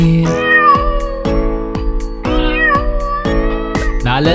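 A voice sings repeated meows imitating a cat over a bouncy instrumental backing in a Manipuri children's animal rhyme, the meow phrases recurring in a steady rhythm throughout.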